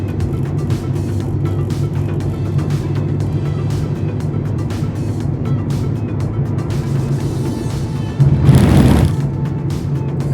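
A car climbing the Tamhini Ghat mountain road gives off a steady, close engine drone and road rumble throughout. Near the end, a louder swell of noise passes by, and no voices are heard.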